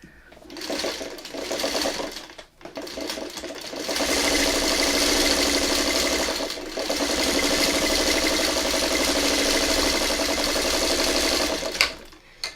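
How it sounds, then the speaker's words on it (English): A sewing machine stitches quilt pieces for a blue spruce quilt pattern, running in long steady bursts of close, loud whirring, with brief pauses between seams and light talk in the background. "let's get this one sewn the best we can"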